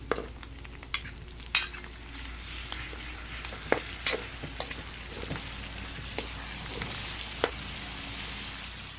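Shrimp paste (bagoong alamang) is stirred in a hot pan, giving a continuous sizzle broken by sharp scrapes and clinks of a utensil against the metal.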